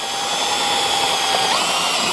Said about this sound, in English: Now you can go ahead and drill.